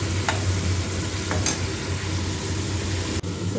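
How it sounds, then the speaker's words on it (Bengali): Vegetables with salt sizzle in a hot pan while being stirred. A steady frying hiss runs throughout, broken by a few sharp clinks of a utensil against the pan. "চলো এগুলো একটু ভাজতে হবে, আর ভেজে নিই"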